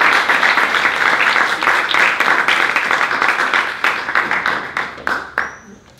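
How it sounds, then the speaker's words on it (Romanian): An audience applauds a speaker at an ASER Talks event held in a pub, with dense, loud clapping sustained for several seconds, then thinning out into scattered claps before it fades near the end. "Dragi aseriști, hai să o aplaudăm pe Ana"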